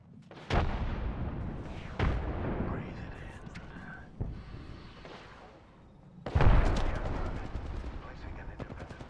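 Frag grenade explosions in the video game Apex Legends, several sharp booming blasts spaced a few seconds apart with a rumbling tail, the largest near the end, amid game noise and a voice talking.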